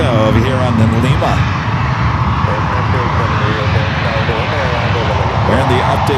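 An airliner banks on approach at San Francisco airport, its engine roar steady and loud throughout, with a voice speaking over it.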